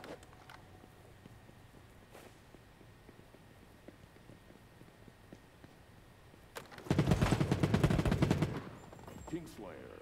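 Rapid automatic gunfire from the Battle Prime video game bursts loud and close for about two seconds after a stretch of quiet footsteps and faint game sounds, followed by a few scattered clicks.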